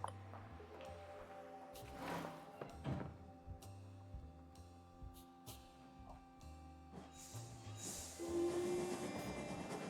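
A train in the video game Genesis Noir rolls with scattered thunks and clanks among low engine hum and sparse tonal game sounds, rather faint, swelling near the end.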